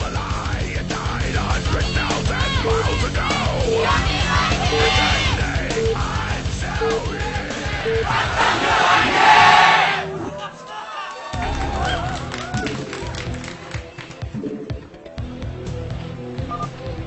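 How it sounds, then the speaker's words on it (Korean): A stadium crowd at a 2004 StarCraft league semifinal match cheers, yells and chants loudly and continuously, with a brief surge before easing, while commentators talk over it. "엄청난 환호성이 중계석까지 들리고 있습니다"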